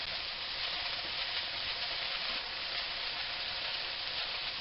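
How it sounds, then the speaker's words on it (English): Vegetables frying in a pan give a steady, loud, hissing sizzle that runs unbroken from start to finish, with no voices over it. "And I'm just going to fry them for a little bit."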